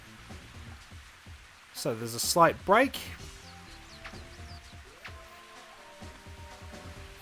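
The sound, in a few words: rain falling in the video game Mario Golf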